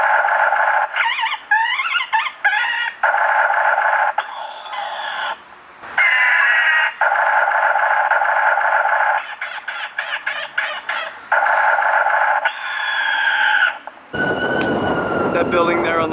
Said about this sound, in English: they've got a speaker system in the trees to scare away the pigeons to keep the park